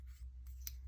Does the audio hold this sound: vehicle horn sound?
no